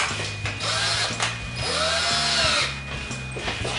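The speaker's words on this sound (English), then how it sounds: "an ordinary drill." An ordinary electric drill spins a stainless steel degassing rod with two small flaps for stirring wine, its motor whirring steadily and loud at close range, with changes in speed and no voices.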